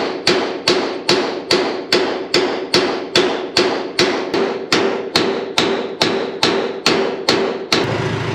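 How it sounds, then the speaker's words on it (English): A hammer pounds a bolt through steel on a mini truck bed in about fifteen evenly spaced, loud metallic blows that ring briefly after each strike, with no talking. "So we're really only gonna have to pound it through that one side right there."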